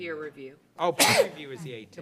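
A single sharp, loud sneeze bursts out during a commission meeting, set between stretches of conversational talk.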